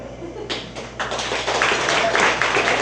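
Scattered claps from a festival audience start sparse and quickly build into a fuller round of applause, fairly close and steady by the end.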